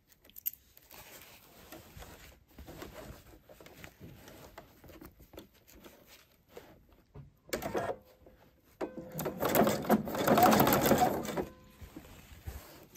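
A sewing machine stitches in the ditch along the seams of a quilted Christmas calendar, quiet and intermittent at first, then a steady, close run of stitching that swells near the end before stopping.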